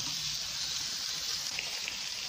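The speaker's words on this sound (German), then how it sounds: "Das Fleisch wird scharf angebraten" Turkey meat searing in a hot pan gives a steady, dense sizzle that holds evenly throughout, close and moderately loud, with no voices over it.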